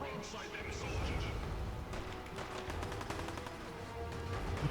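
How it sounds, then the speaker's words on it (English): Cannon broadside in the video game Fallout 4, a dense burst of booming shots and crackling reports overlapping each other, loud and continuous throughout. "The cannons are ready."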